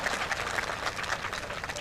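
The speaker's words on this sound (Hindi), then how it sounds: "जोरदार तालियां बजाइए बाबा साहब के लिए।" Audience applause for Babasaheb Ambedkar at a Bahujan community gathering, a steady crowd clapping that holds at an even level throughout, with some voices mixed in beneath it.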